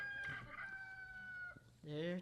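A rooster crows twice, one long drawn-out call followed by a brief pause and a second sharp crow, fairly faint with some background noise.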